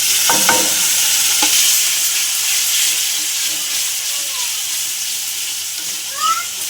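A spice paste of ginger, garlic, green chilli and tomato, with red chilli, cumin and coriander powder, fries loudly in a pan, giving a steady sizzle close up with a few scraping stirs near the start.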